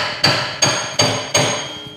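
Four evenly spaced, ringing metallic hammer taps strike a part beside the engine seal of a Mud Skipper during assembly. Each tap is close and moderately hard and decays briefly before the next, with no talking.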